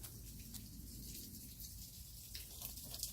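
Water dripping and trickling somewhere nearby, a faint, patchy patter of small drops over quiet background hiss, with no voices.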